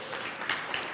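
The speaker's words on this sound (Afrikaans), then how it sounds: "Kom ons gee vir hierdie pastoor en sy vrou net 'n lekker hande klap." Church congregation clapping in applause for a pastor and his wife during a Sunday morning service, a steady dense patter of many hands lasting the whole moment.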